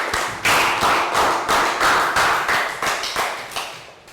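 A classroom of children claps in a round of applause, a dense run of quick, uneven claps at a steady loud level that thins out toward the end.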